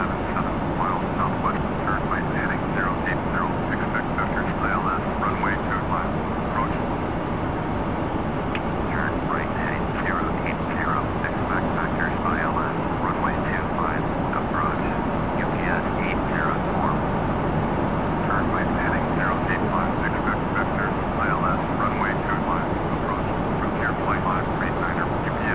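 A QualityWings 757-200F freighter in Flight Simulator, cruising on a flight into Denver, its engines a steady airliner drone that holds for the whole stretch, with a voice talking over it now and then.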